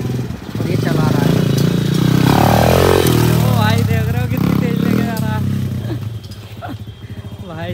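A kid rides a 125cc dirt bike in India, its engine droning loudly and unevenly up close with throttle swells, while people talk over the running motor.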